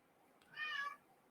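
A house cat lets out a single drawn-out meow, close and clear, rising over a quiet room with no other sounds.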